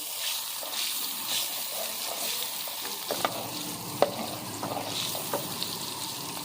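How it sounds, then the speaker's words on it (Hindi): Quiet sizzling of green chilies frying in butter in a pan, with a few light clinks and stirring scrapes over a soft steady hiss. "अब इसके अंदर हम 3 हरी मिर्चें डाल देंगे। इसे थोड़ा सा फ्राई करेंगे।"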